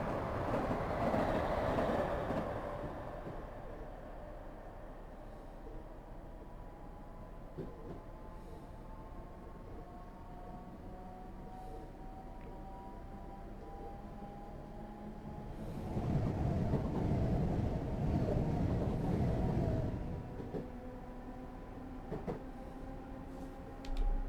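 A Class 321 electric train in Train Simulator hums steadily along with rising and falling electric motor whines and a louder rumbling stretch near the end.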